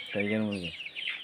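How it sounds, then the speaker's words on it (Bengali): A single short, harmonic cluck from a tiger chicken hen up close, followed by faint scratchy noise. "টাইগার মুরগি"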